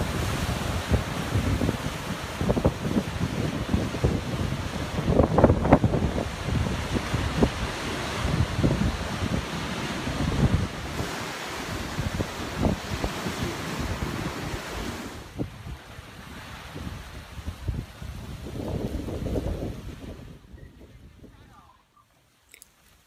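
Ocean surf breaking at Poipu Beach on Kauai, Hawaii, with wind buffeting the microphone, a loud continuous roar of waves that fades away at the very end.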